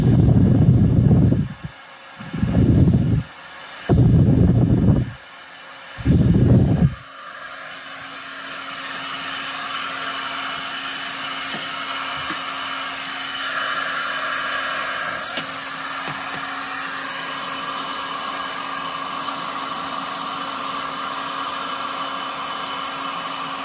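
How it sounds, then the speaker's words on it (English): A powerful Prelude heat tool blows hot air for embossing a card, first in four short blasts, then in one long steady roaring stream that runs on loud and close. "This is a Prelude heat tool. It's very powerful. It has two heat settings,"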